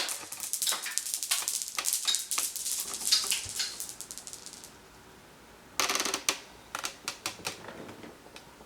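Dungeon Dice Monsters dice rolled across a table: a burst of rapid clattering taps and tumbling clicks, then a pause of near silence, then a second shorter rattle of dice settling.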